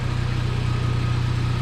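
Chevrolet Cobalt SS engine idling with an exhaust leak from a cheap header and downpipe, a steady low rumble with a rapid even pulsing, close and loud with no talk.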